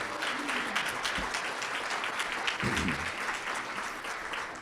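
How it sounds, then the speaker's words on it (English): Sustained applause from an audience at a civic State of the City and State of the County address, a dense steady wash of many hands clapping throughout with no talk over it. "How about we give both of them a round of applause"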